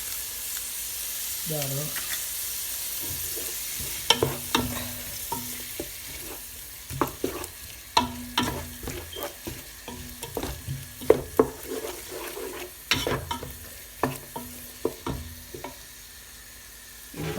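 Prawns and eggs fry in a pan for fried rice. A continuous sizzle runs under frequent sharp clinks and scrapes of stirring, and a voice speaks briefly.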